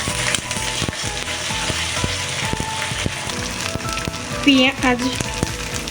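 Ginger and garlic paste hissing and crackling with browned onions in a pan, a steady close sizzle with scattered pops and light scraping, plus a brief tonal sound near the end.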